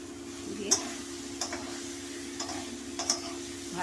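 Soybean chunks frying in a cooked spice paste for soybean curry, a soft low sizzle under a few sharp spoon scrapes and taps against the pan as they are stirred.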